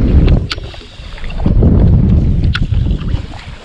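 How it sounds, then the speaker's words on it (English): Wind gusts across a lake while fishing for crappie from a boat, a steady low roar and buffeting rumble on the microphone with a few small knocks and clicks, and no talking. "Boy, that wind's blowing."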